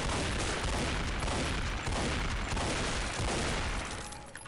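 Gunfire from the video game Half-Life 2, a dense stretch of repeated loud shots and booms that run together without pause and tail off at the end.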